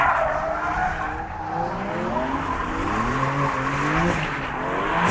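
A 600hp BMW G87 M2 drifts figure of eights, its tyres squealing loudly and continuously over a steady engine roar, the squeal wavering in pitch as the car swings through each turn.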